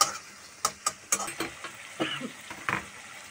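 A spice paste is stir-fried with a little hot water in a pan for a green-tomato fish curry, with sharp spatula clinks and scrapes over a faint sizzle, close and fairly quiet.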